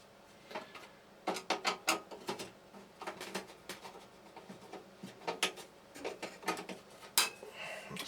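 Small metallic clicks and scrapes as screws are backed out of a flood-damaged Lenovo ThinkCentre main board, in irregular clustered bursts at close range with no talk.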